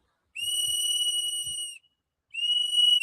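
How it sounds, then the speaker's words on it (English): A protester's whistle is blown twice outdoors, a shrill, loud, steady tone lasting over a second, then a brief pause and a second blast, with faint low thumps beneath. "Why are you blowing your whistle, sir?"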